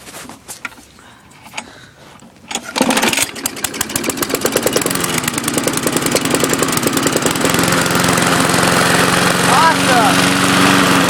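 A small gas lawn mower cold-starts on starting fluid. Weak sputters come first, then the engine catches and roars into a loud, steady, close chugging run that continues alone to the end.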